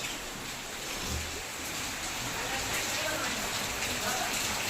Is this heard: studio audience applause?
no